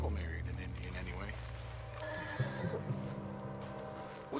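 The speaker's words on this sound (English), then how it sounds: "What's wrong with this horse?" A horse whinnies in the Western video game Red Dead Redemption 2, played on PS4, with a rising neigh heard over steady hoof clip-clop and a low rumble while someone talks.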